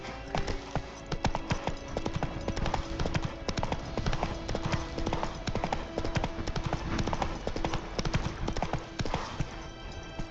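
Hooves of the horse Roach from the game The Witcher 3 clop in a fast, continuous galloping rhythm, loud and close for the whole stretch, with dense repeated thuds.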